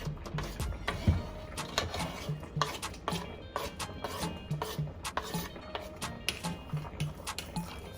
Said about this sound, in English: Now I'm just gonna go in and add the garlic just so everything could simmer down together.